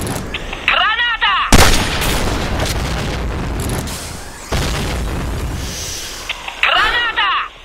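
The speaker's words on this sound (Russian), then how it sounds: "Граната!" Grenade blasts and gunfire in the Point Blank shooter game: loud booming detonations with rumbling tails, along with sharp shots, while a voice shouts over the action.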